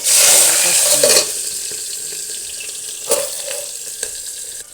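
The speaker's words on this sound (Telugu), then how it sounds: "వీటితోటి ఇప్పుడు మనం రెడీ చేసుకుందాం ఈ వేడైన నూనెలోకి" Tomatoes, green chillies and small onions hit hot oil for a snail meat and gongura curry. A loud, bright sizzle bursts for about a second, then settles into a quieter crackle with occasional stirring knocks.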